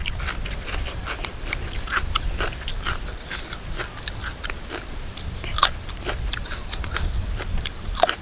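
Close, repeated crunchy bites and chewing while someone eats spicy squid salad with bitter gourd, giving irregular crisp snaps over soft mouth noise, with no speech.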